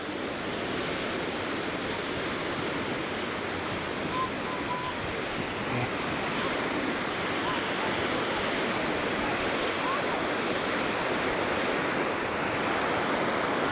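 Ocean surf at Fort DeSoto beach on the Florida Gulf coast, a steady, dense wash of breaking waves with some wind buffeting the microphone, continuous and fairly loud throughout with no talking.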